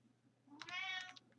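A single brief, faint meow from a cat in a Minecraft game, rising out of a quiet low hum.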